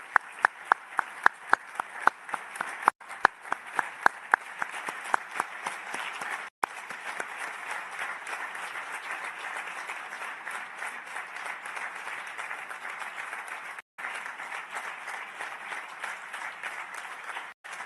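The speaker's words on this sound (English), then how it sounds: "Vi chiedo di tutti insieme fare un grande applauso, un tonnerre d'applaudissements pour Filippo Grandi" Sustained applause for Filippo Grandi at a UN Refugee Agency meeting, a steady even roar of clapping from a large hall, with several sharp isolated claps standing out at the start.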